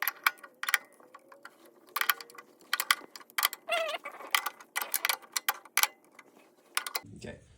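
Sharp clicking and ratcheting as a hand tool tightens bolts on DeWalt planer blades, a close, irregular series of crisp metallic ticks with brief pauses between bursts.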